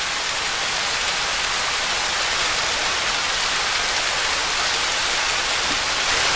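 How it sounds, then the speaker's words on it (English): A waterfall along Cold Run Trail in Worlds End State Park, Pennsylvania, gives a steady, dense broadband rush of falling water, constant and fairly loud throughout with no voices. "I do hear it sounds to be like a waterfall down here."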